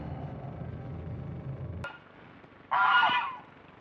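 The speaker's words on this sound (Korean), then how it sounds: "지나가는 길에 거위가 있어요" A single goose gives a short, loud honk close by, following a steady low rumble of flowing water near a forest temple and a brief sharp knock.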